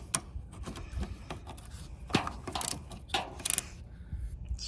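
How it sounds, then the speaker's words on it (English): Ratchet wrench loosening bolts on the clutch master cylinder of a 1989 Jeep Wrangler, a few short bursts of clicking close by with metallic knocks and handling noise, no voices. "So let me get these bolts out"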